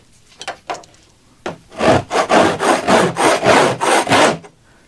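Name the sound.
scraper scraping old fiberglass boat lid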